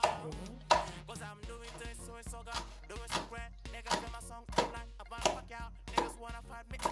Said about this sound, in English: So I'm here slicing my onion.